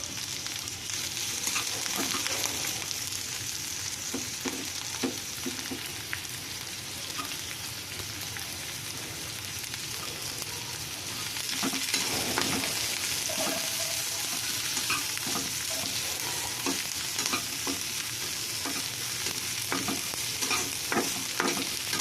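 Chopped onion fries in oil for a savoury patisapta filling, a continuous close sizzle broken by irregular scraping stirs of a spatula against the pan, growing slightly louder partway through.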